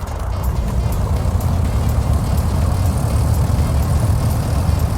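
A propeller aircraft engine starting and idling at low throttle in a flight simulator, a loud steady low droning rumble running continuously and alone, without speech.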